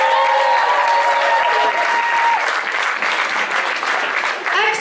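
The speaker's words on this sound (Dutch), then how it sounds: "Applaus!" Dense, loud audience applause fills a youth-club playback show as a jury member is introduced, a steady wash of many hands clapping with faint voices mixed in before it thins near the end.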